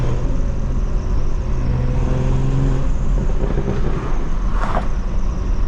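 A BMW 440i drives along the road, heard from inside as a constant loud low engine drone and tire rumble with faint tonal hum, broken only by a short bright clatter near the end.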